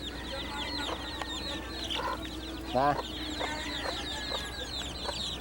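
Chickens at a fiesta cluck and chatter in soft repeated bursts, with one louder squawk partway through, over a busy background of distant voices.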